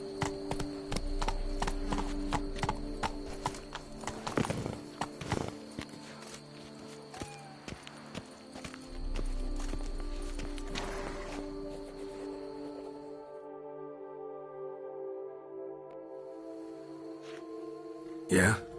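Horse hooves clip-clop across the ground in The Witcher, a steady run of hoof beats mixed with game music and ambient sound, with a voice speaking over part of it.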